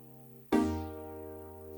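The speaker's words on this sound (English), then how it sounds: "And I layered that with Logic Pro's 80s FM piano." A layered synth chord with Logic Pro's 80s FM piano hits after a brief lead-in, a bright attack ringing into a long, steady sustained tone with no voices.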